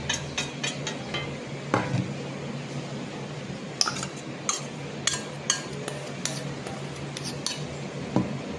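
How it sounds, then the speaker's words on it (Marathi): A spoon stirs and clinks against a bowl, mixing a masala marinade of yogurt and ginger-garlic paste, with steady close scraping and sharp metallic taps recurring at an uneven rhythm. "हे बघा, हा सगळा मसाला त्याच्यात आपण एकत्र एकजीव करायचा आहे"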